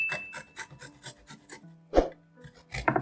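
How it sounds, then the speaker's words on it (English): Two garlic cloves are rubbed across a grater in quick, close, rhythmic rasping strokes, with a short pause midway before the scraping resumes. "grate 2 cloves of garlic"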